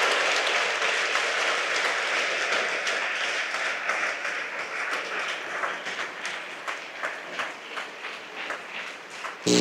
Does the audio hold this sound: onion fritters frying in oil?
no